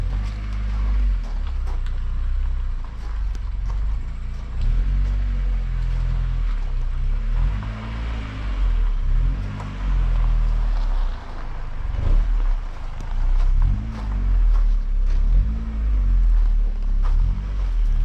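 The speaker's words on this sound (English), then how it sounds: "There's a beautiful car coming in here." A 1991 Volkswagen Jetta GL rolls slowly into a barn, its low engine rumble steady and close throughout, with faint knocks and brief voices in the background.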